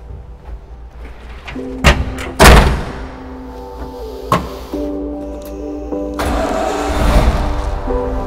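A rare Toyota FJ Land Cruiser starts up: a couple of loud thumps are followed by the starter cranking and the engine catching, then a steady idle settles in close by.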